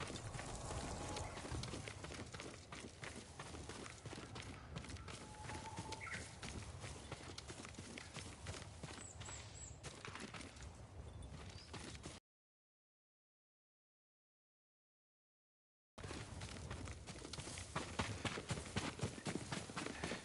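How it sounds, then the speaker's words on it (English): Horse hooves clip-clopping at a steady gait in the video game Ghost of Tsushima on PS5, continuous and fairly close over game ambience, cutting out briefly to silence before resuming. "Yuriko's horse."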